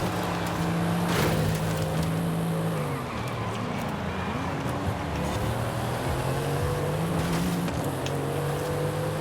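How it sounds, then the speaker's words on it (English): The Mercedes-AMG GT Black Series twin-turbo 4-liter V8, tuned to 720 horsepower, roars continuously in the Forza Horizon 5 racing game, revving up and down through gear changes, loud and close with no talking. "It is the twin turbo 4-liter V8 is now tuned to pump out 720 horsepower"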